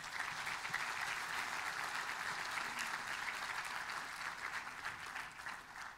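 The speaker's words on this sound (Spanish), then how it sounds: "¿Cuánto le da un aplauso a Jesús?" A church congregation applauds for Jesus during a sermon, the clapping steady and dense for several seconds at a moderate, slightly distant level.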